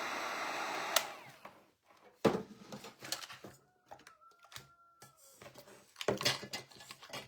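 A small hair dryer or heat tool blows in short bursts to dry paint on a handmade pumpkin shelf sitter, a close airy whoosh that starts and stops between quiet gaps and faint handling clatter.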